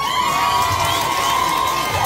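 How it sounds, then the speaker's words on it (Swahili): A crowd at a community gathering about a new school cheers and whoops for a girl, a dense, loud wash of voices with a high sustained shout on top, continuous for a couple of seconds. "kwanza mpigieni makofi sana yule binti."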